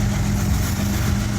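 Diesel locomotive of a freight train idling close by, a loud, steady low rumble with a constant deep hum and throbbing engine beat, heard alone.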